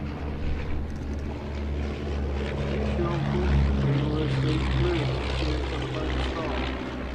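A vintage light aircraft with a 130-horsepower Gipsy engine drones overhead with a steady propeller hum that swells and fades, while someone talks over it.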